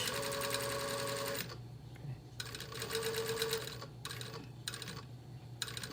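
Sewing machine stitching a back tack at the edge of a welt on a breast pocket sample, running in steady bursts with short pauses between runs, close and clear with no talking.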